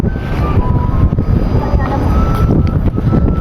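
Strong wind buffets the microphone on a rooftop in Manila, a steady loud rumble with gusts throughout, with faint tones beneath.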